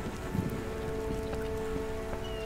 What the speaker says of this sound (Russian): Этот ливень нагоняет на меня сон.